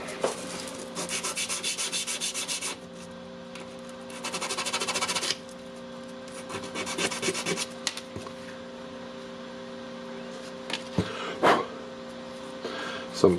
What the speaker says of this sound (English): Some small sanding